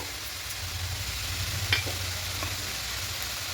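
Leafy greens being stir-fried in a pan, their water cooked off, give a steady soft sizzle with a low hum beneath and one brief sharp scrape of the spatula partway through; no one speaks.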